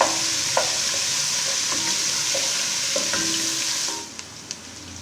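Garlic and ginger paste fries in a pan with a loud, steady sizzle, and a spoon scrapes and taps occasionally, close by; the sizzle drops noticeably near the end.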